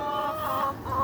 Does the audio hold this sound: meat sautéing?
no